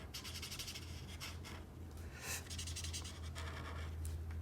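A felt-tip marker colors a drawing on paper with quick back-and-forth strokes, a soft rhythmic scratchy rubbing that is close but faint over a low steady hum.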